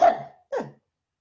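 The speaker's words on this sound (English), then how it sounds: "I coughed right into that microphone, sorry." Someone coughs straight into a microphone during a lecture, making two sharp, loud bursts in quick succession with silence after.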